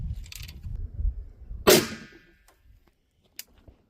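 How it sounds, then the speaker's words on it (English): An AK rifle fires a single 3D-printed sabot-style round outdoors, one loud sharp crack with a short ringing tail standing clear above faint background rumble, followed by a couple of small distant clicks. "AK goes first. Firing."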